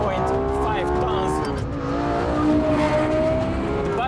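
Lexus LFA sports car engine droning steadily while driving, with pitch rising and shifting between gears, close and loud throughout, with someone talking over it.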